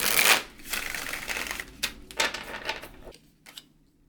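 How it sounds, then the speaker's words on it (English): A deck of tarot cards riffles and shuffles close by in several quick bursts, with soft pauses between them, as cards are pulled from the deck in a quiet room. "So I will just pull some cards and we can go through the spread quickly."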